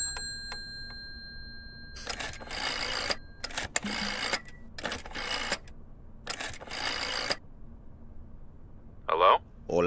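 A telephone handled in the Layers of Fear game: bursts of clicking and rattling, like a rotary dial turning and returning, in several clustered runs over a quiet background, ending with a short bright ring-like tone.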